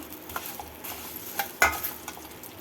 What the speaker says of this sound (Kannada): ಇದನ್ನು ಚೆನ್ನಾಗಿ ಬಾಡಿಸ್ಕೊಳ್ಳೋಣ